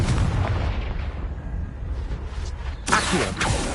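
A fiery Confringo spell in Hogwarts Legacy, with a steady rumbling roar and then a sudden loud burst of explosion near the end.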